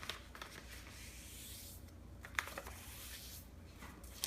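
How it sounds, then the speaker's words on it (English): Origami paper rustles and crinkles softly as it is folded in half diagonally, with light rubbing and a few sharper creasing clicks standing out in a quiet room. "we are going to start by folding the paper in half diagonally"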